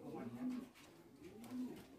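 A pair of Beauty Homer pigeons sitting on eggs in a loft coo softly, two low, faint, drawn-out murmurs in a quiet room.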